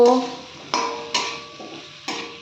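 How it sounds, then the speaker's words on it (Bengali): Fried potatoes and pointed gourd being stirred into spice paste in a pan, with a few distinct clattering scrapes and knocks of a spoon against the metal, each followed by a short sizzling decay; no voices. "ভেজে রাখা আলু আর পটলগুলো এর মধ্যে দিয়ে দিলাম ভালো করে একটু নেড়ে নেব"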